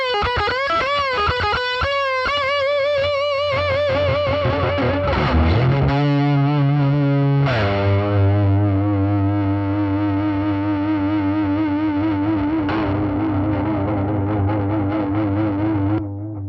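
An electric guitar runs through a saturated overdrive pedal, opening with bent lead notes and slides before settling into a thick, sustained low chord that rings steadily to the end, loud and close with no voices.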